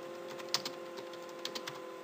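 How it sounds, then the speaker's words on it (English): Light, quiet clicks of fingers typing on a computer keyboard, a few scattered keystrokes over a faint steady background hum. "and just type"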